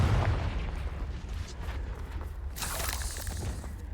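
A Confringo fire spell blasts off in Hogwarts Legacy, a rumbling explosive boom with crackling debris and a burst of bright shattering noise partway through, no talk.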